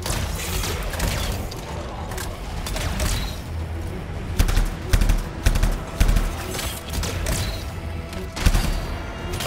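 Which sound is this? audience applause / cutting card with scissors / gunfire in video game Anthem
gunfire in video game Anthem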